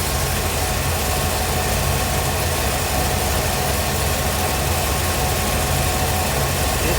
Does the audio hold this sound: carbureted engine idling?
yes